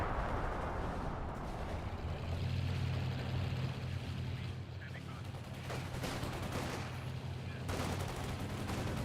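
A time-on-target artillery barrage in Company of Heroes 2 is a dense, continuous wall of explosions and gunfire lasting the whole stretch, with a low rumbling undertone and no clear gaps.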